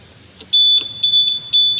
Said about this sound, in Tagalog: At ito may anti-alarm system na may magtatangkang magnakaw ng motor nyo